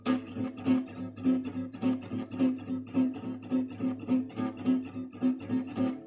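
Gypsy jazz rhythm guitar in a swing feel with an exaggerated, lazy upstroke, a steady run of close, bright chord strums alternating strong and lighter hits, unaccompanied.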